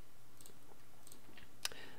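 A Shift key is pressed on a computer keyboard during desktop drawing work. A few faint soft ticks lead to one sharp, close key click near the end, in an otherwise quiet room.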